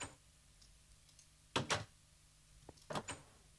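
A door being placed in modded Minecraft 1.10: quiet room tone, then a pair of sharp wooden knocks, followed later by a softer click and another close double knock.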